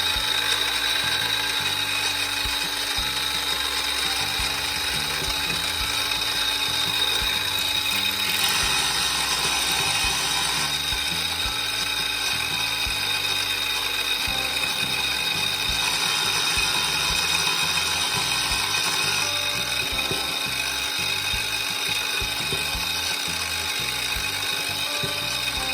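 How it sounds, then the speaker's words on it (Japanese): Steady, continuous whir of a drill boring holes through a worn blue steel (Aogami) kitchen knife for Schneider bolts, droning loudly without pause, with no talking. "厚みを減らしたらシュナイダーボルトを固定する穴を開けます。"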